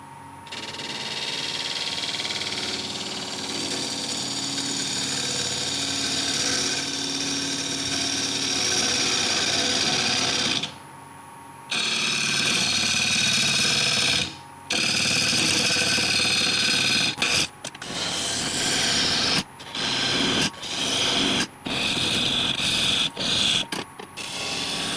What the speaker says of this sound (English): do a little bit of hollowing while I've still got it connected right here to the tailstock